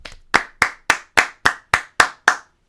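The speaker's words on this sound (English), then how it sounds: "that deserves a round of applause." Eight sharp hand claps in a steady, even rhythm, loud and close, with no voices.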